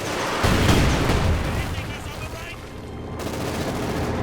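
Gunfire and an incendiary round from a World War II tank battle in Company of Heroes 2: a heavy blast at the start followed by rolling, rumbling fire and bursts under a commentator's voice.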